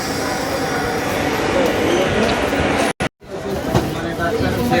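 Rumbling, rattling noise of a moving train from inside a carriage departing Sealdah, with a babble of passengers talking throughout.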